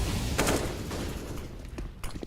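Gunfire in a Counter-Strike: Global Offensive match, a few muffled shots and thumps in quick succession, moderately distant and not very loud.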